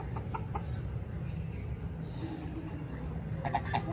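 A white rooster clucking on a home poultry yard, a few short clucks scattered through a steady low background hum, with brief soft bird calls near the end.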